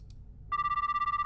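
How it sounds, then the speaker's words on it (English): A phone starts ringing in the horror game The Karaoke, a steady, pulsing electronic ring that begins partway through and repeats in quick even bursts, loud and clear over a faint low background. "you need to answer the phone."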